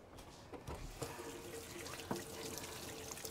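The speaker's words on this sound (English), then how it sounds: "Give my hands a quick rinse" Hands rinsed under a running kitchen tap while baked apples are prepared, a steady close stream of water splashing into the sink with a few brief clunks, no talking.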